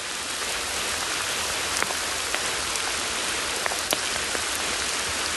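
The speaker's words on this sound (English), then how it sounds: "I like being out in the woods when it's raining" Steady rain falls in the woods, a dense, even hiss of drops on leaves and ground, with occasional louder close drips standing out; no voices.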